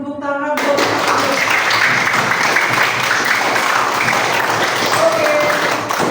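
Loud, close applause from a classroom of elementary school children, dense clapping that starts abruptly and continues evenly for about six seconds, with a few voices mixed in.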